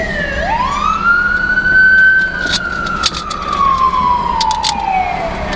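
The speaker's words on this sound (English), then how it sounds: "hold on, ambulance" A loud ambulance siren rises quickly, then holds a long wailing tone that slowly falls away, with traffic rumble underneath.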